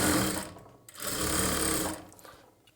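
A sewing machine stitches the lining of a boat-neck blouse, running in two close bursts of rapid mechanical whirring with a brief pause between, then winding down near the end.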